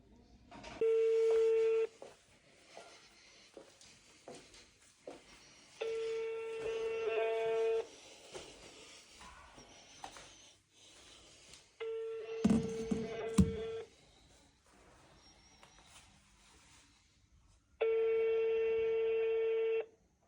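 Phone calls placed to the Bulgarian consulate in Edirne give four long, steady ringback tones spaced several seconds apart, with quieter background noise in between.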